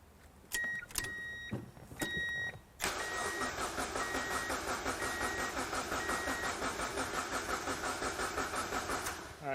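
Fire-damaged Mazdaspeed Miata engine cranking without catching, a few short starter bursts followed by a long, sustained rhythmic cranking churn, loud and close.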